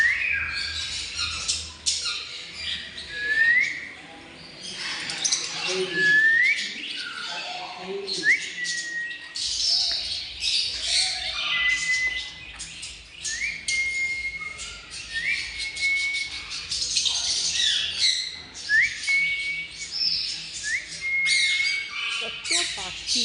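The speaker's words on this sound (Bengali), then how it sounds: "তিনটে প্যারট।" Three parrots squawking and whistling nearby, with repeated sharp, rising calls scattered throughout, some loud and close, others fainter overlapping chirps in the background.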